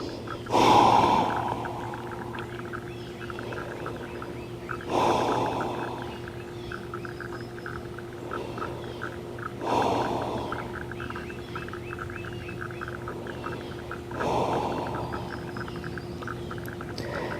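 Deep, slow breathing during a yoga class in crocodile pose: four long, airy breaths come at even intervals about four to five seconds apart over a low steady hum. The breaths are close and moderately loud, with no talking.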